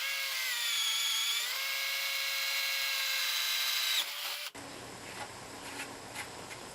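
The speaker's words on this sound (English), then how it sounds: "Let's go ahead here and drill this 3/4 inch hole." A Black+Decker BDCDC18 cordless drill with a keyless chuck whines steadily at high speed, boring a 3/4 inch hole, then stops abruptly and leaves faint background noise.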